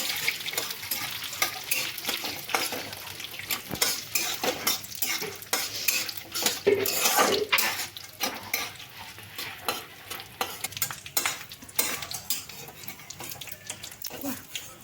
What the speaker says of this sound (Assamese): মই এতিয়া ৰ'ষ্টেড বাদামখিনি আৰু অলপ ভাজি লৈছোঁ